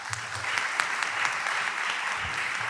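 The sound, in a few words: audience applause for a panelist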